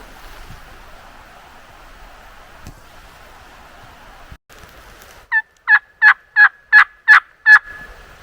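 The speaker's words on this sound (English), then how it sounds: "I could have swore I heard a turkey noise" A wild turkey gobble rings out clearly near the end as a rapid string of about seven sharp notes, over a steady rush of flowing water on a Kentucky hardwood ridge.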